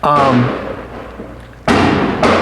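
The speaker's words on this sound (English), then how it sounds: "Yeah, that's like a real firework." Fireworks burst outside with two sharp, loud booms about half a second apart near the end, following a voice talking indoors.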